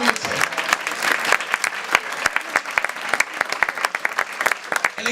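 A church congregation claps together during an evening service, sharp individual claps in a loose rhythm over a continuous roar of applause, loud and close throughout.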